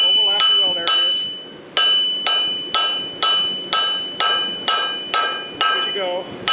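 Steady, loud hammer blows ring out on a bar being forge-welded into a welded wire blade, about a dozen metallic strikes at an even rhythm, each with a bright ringing decay.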